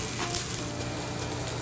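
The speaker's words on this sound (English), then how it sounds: "our peppers are nice and sauteed up" Peppers and onions sauté outdoors on a beach, giving a steady, close hiss of sizzling with faint clinks, with no talk.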